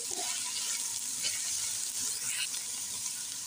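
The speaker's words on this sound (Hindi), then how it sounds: "अब मिक्स करेंगे अच्छे से, इसको फ्राई करेंगे।" Cabbage being stirred and fried in a pot for vegetable and mutton soup, giving a quiet, steady sizzle with soft scraping stirs and small bursts of crackle throughout.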